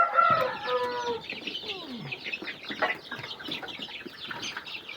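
Chickens and chicks on a poultry farm cluck and peep in a busy, overlapping chorus. One louder squawk stands out near the start, and softer chirps continue close by.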